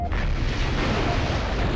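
A pressure tank in the MechCommander Gold game is shot and explodes, producing a dense, sustained roaring blast that fills the whole clip at close range.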